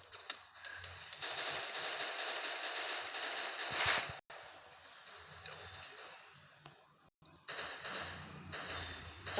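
Rapid bursts of automatic gunfire from a shooter video game, ending in a headshot kill, crackle loudly for several seconds, pause, then resume in short volleys, with no talking over them.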